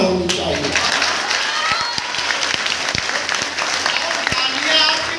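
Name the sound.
audience applause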